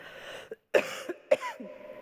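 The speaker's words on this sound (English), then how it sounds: "I have this residual cough, and it could be hideous, like right now." A person coughs several times in short, harsh bursts close by, with a brief pause between them.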